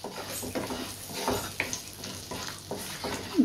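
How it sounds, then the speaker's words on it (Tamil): Whole spices sauté on a low flame in a pan for a paneer gravy, making a soft, continuous crackle and sizzle with gentle, irregular stirring scrapes throughout. "இதை வந்து ஸ்டவ்வை லோ ஃப்ளேமில் வச்சு நல்லா வதக்கி விட்டுடுவோம்"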